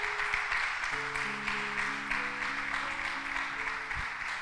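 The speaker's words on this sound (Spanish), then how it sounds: "denle un aplauso al Señor" A church congregation applauds during a sermon, a steady, moderately distant wash of clapping that carries on throughout, with faint tonal music or hum underneath.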